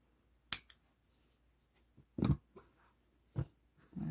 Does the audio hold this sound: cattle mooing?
no